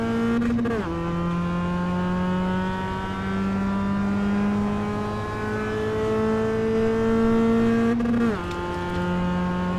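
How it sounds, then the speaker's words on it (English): Rally car engine in the Richard Burns Rally video game labours in second gear, a steady strained drone of harmonics that climbs slowly, dips briefly at a shift and then holds on, loud and continuous. "This car doesn't like first gear here. It labours in second, but first is too short."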